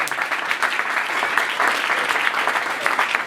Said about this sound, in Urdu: آئے ایسے خدا کے لیے زوردار تالیاں۔